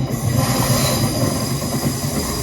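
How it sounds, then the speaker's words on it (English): A London Northwestern Railway Class 350 electric passenger train rumbles in close and loud as it arrives at a station, wheels grinding and squealing faintly along the rails in a steady, continuous roar. "here comes the 1411 London North Western Railway service to Crewe, 350-101"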